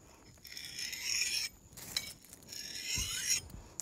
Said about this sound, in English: Now I'm going to take a file to start off with, and I'm going to try and put about a 20 degree bevel